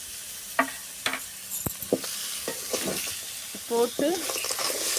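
Masala sizzles steadily in a pan as it is sautéed and stirred for a fish curry, with scraping stirs and clatter over the frying hiss and brief speech on top.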